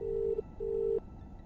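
A telephone ringback tone on an outgoing call placed from inside a police car, two steady electronic beeps of similar length in quick succession, clear and close with no voices.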